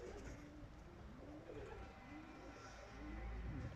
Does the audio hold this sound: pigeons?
yes